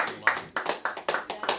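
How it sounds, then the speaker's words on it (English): Audience members at a live talk show clap in a quick, rhythmic burst of about six claps, close and moderately loud. "You can clap for me."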